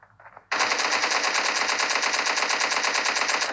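Rapid automatic gunfire from a video game battle breaks out after a few quieter shots. It becomes a dense, loud, evenly spaced burst of rounds that carries on steadily to the end.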